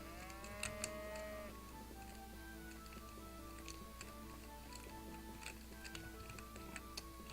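A cow moos in the RPG Maker game Legion Saga II, one short low call near the start over steady game music, followed by faint ticking and small effects.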